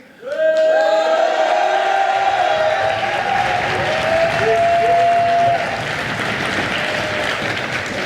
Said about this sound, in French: On sent la jeunesse applaudir.